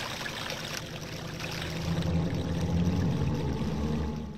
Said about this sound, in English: The spring, which is the source of the river, rises again and the water begins to flow.